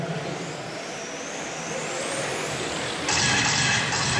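Tamiya TA07 Pro radio-controlled cars racing in a USGT season finale, a continuous whining electric motor drone from passing cars that swells louder toward the end, with no talk.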